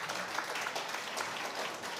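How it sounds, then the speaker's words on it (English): Audience applause fills a civic dinner hall, a steady, dense clatter of many hands clapping throughout, fairly loud and close, with no talking over it. "got more applause than my 9 questions combined"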